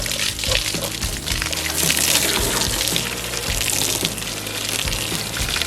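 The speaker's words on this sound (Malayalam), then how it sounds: "ഞാൻ ജസ്റ്റ് മോട്ടറിൽ നിന്ന് വെള്ളമൊന്നും അടിച്ച് നമ്മളൊന്ന് ചെക്ക് ചെയ്യുവാണ്" Water from a motor pump sprays forcefully onto a body-mounted bike indicator, a steady loud gushing hiss with splashing and spattering throughout, no voices.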